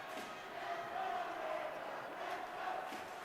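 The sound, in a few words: hockey crowd cheering for the favourite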